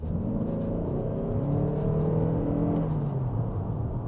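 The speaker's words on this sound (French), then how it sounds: "on va avoir un moteur qui va quand même donner des décibels en pleine charge" A Lexus NX 450h+ plug-in hybrid SUV with 309 horsepower roars under full load, its pitch climbing steadily as it accelerates, loud and continuous with no voices.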